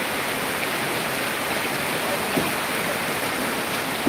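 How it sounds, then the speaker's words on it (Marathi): Torrential monsoon rain pours steadily at a riverside temple, a constant loud hiss with no breaks and one faint knock partway through. "किती मुसळधार पाऊस चालू आहे बघा"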